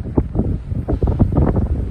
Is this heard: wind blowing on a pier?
yes